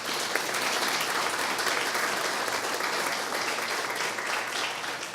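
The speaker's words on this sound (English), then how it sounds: "If I can get a round of applause for our new dispatcher and new officer" Steady applause fills a city council meeting room for a newly hired police dispatcher and officer, an even wash of clapping from the gathered attendees with no pause.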